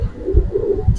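Giribaz pigeons coo in low, soft repeated pulses, close by and alone, with a brief higher rustle at the end.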